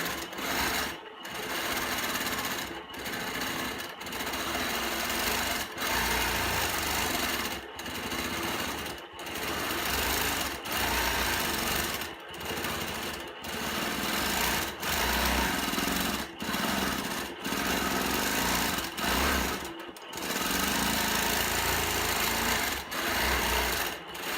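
A sewing machine runs free motion quilting, stitching feather patterns into fabric. The near, loud whirring comes in repeated bursts of a second or two, split by brief silent pauses, with no talking.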